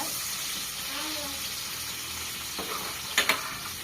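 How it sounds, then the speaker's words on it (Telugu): Onion pieces fry lightly in a hot pan with a soft, steady sizzle, then a couple of brief clattering stirs near the end. "ఉల్లిపాయ ముక్కలు లైట్గా ఫ్రై అవ్వాలన్నమాట"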